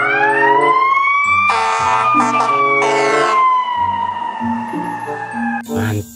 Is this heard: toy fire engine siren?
yes